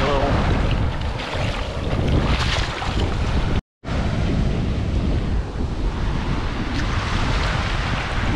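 Ocean waves surge and wash onto a shell-covered beach, a loud, continuous rush heavily buffeted by wind on the microphone, with one brief dropout partway through.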